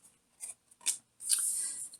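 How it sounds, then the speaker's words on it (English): Tarot cards being shuffled by hand, giving a few short papery riffles followed by a longer continuous riffle, close and fairly soft, with no talking. "I'm just shuffling the cards here"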